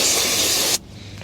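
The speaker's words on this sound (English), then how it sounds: "So we want to just spray some brake clean here" Brake cleaner sprays onto a rag during front brake work on a 2017 BMW X5, a loud, steady aerosol hiss lasting most of a second before cutting off abruptly into quiet.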